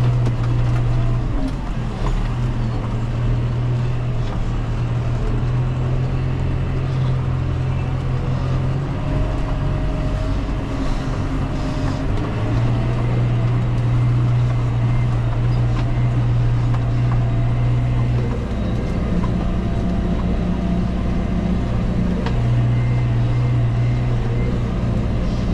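A tractor pulling a cultivator across a farm field during sugar beet planting gives a loud, steady engine drone with a low rumble and a throbbing hum that rises and falls slightly, running continuously and close up.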